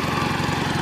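A Gravely 812 garden tractor engine runs steadily and loudly nearby, a constant pulsing mechanical drone with no voices over it.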